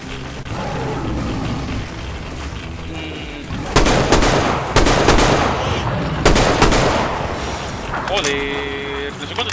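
Gunfire from Metro Exodus, Sam's Story DLC: loud sharp shots in bursts over a rumbling game soundscape, with someone talking during the exchange.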